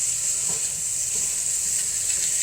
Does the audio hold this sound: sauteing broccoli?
yes